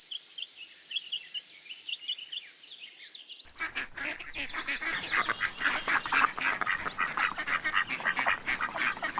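Farm ducks quacking in a loud, dense run of repeated calls that starts after a short quieter passage of higher bird calls and continues steadily to the end.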